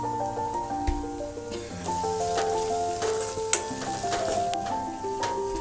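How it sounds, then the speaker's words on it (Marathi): Ground spice masala (chili powder, coriander powder, fish masala) sizzles steadily in hot oil for a home-style Marathi fish curry, with occasional stirring clinks over a continuous close frying hiss. "मसाला चांगला तेल सुटूपर्यंत भाजून घेऊया।"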